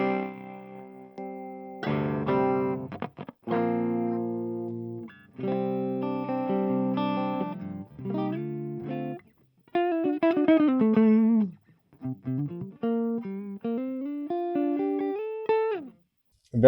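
An electric guitar with gain runs through a pedal on its first channel, starting with strummed, ringing chords and moving into single-note melodic lines with bends, all moderately loud, with short gaps between phrases.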